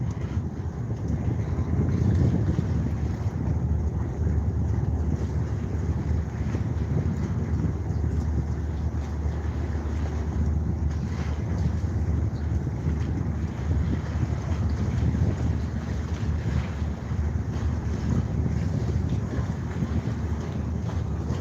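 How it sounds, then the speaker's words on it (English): Continuous wind and water noise heard from a floating bridge as waves strike it and it rocks back and forth, a steady low rumble with gusty buffeting across the microphone and no distinct individual splashes. "as the waves hits the bridge, it rocks back and forth."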